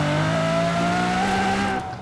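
A race car engine in the video game Forza Horizon 4 holds a steady, buzzing high-revving tone with a slight pitch rise, loud and close, and then cuts off abruptly near the end.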